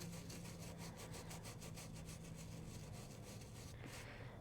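Coarse brush scrubbing quilted fabric to raise chenille fibers, a steady run of rhythmic, raspy strokes up close, fairly faint and with no talking.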